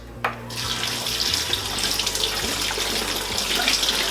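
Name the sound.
rinsing blackberries under running tap water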